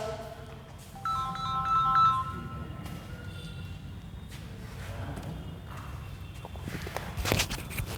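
During a biology class, a phone ringtone plays a short, moderately loud melodic phrase over quiet room noise and shuffling, then fades into soft background sounds and scattered knocks.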